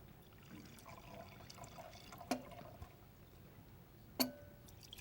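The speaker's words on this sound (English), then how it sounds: "Go ahead and pour the wine." Sangiovese red wine is poured into a glass, a faint liquid trickle with two soft clinks of the glass.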